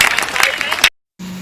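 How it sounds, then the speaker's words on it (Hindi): Applause at a general competition event, a brief burst of clapping mixed with voices that cuts off sharply into silence before a steady tone begins. "जोरदार तालियां बजाते"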